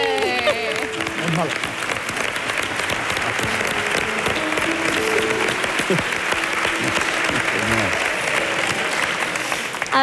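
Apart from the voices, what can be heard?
audience applause at talent show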